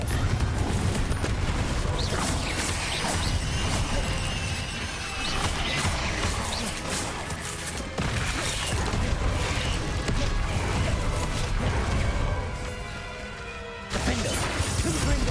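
Spell blasts and crashes from a Harry Potter video game, including the Confringo spell, come as a dense, loud, continuous barrage of impacts and bursts with a brief dip near the end.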